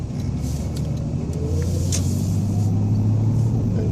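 A Ford XC Fairmont with a 351 V8 drives along, heard from inside as a steady low engine and road rumble, moderately loud and unbroken, with no talking.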